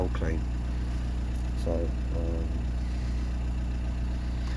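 A Nissan engine revving fairly high in a steady, continuous drone during a hydrogen DPF clean, with a brief voice cutting in near the start.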